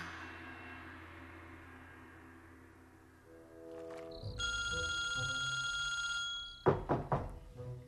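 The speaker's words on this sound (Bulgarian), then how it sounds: "Ей, Джако, телефонът ти все звънеше и аз вдигнах" A mobile phone rings in a bathroom setting, its steady electronic ringtone sounding for a couple of seconds after a low hum, followed by a few sharp knocks or thumps near the end.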